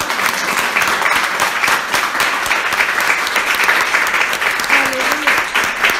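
A church congregation at a women's gathering claps steadily and densely for the full stretch, a continuous wash of many hands with a brief voice rising over it near the end.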